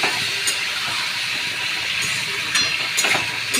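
Moong dal with papaya and potato cooking over a high gas flame, a constant loud hissing sizzle with occasional scrapes and clinks as it is stirred.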